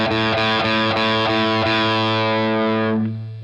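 An electric guitar through a Blackstar St. James tube amp with heavy distortion strums a chord in a quick repeated rhythm, then lets it ring out and fade. Loud and close, no voices.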